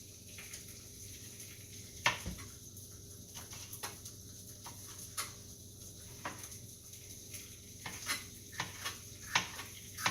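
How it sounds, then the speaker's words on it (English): Bacon frying in its own grease in a pan, a faint, continuous sizzle broken by scattered pops and light clicks throughout. "I've got the bacon in there already going, and that's going to give me my grease to work from"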